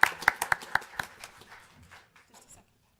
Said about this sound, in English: Hey, we got to clap for her, though.